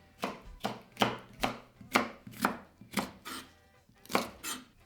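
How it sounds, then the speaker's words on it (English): A knife chops paprika on a cutting board in a home kitchen, about ten crisp, evenly spaced strikes ringing out close and clear with no talking. "now we will cut paprika"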